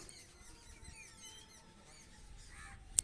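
Birds chirp and twitter in quick, bright bursts over a soft outdoor background, with a sharp click near the end.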